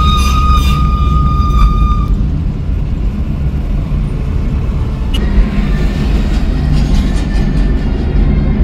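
Train from Rishikesh rumbling steadily past near Dehradun, a loud continuous low roar of wheels and cars with a faint high whistle-like tone early on and a sharp clank midway.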